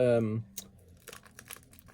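A small plastic bag from a model kit build crinkles in a few sparse, close, rustling bursts, following a brief stretch of talking at the start.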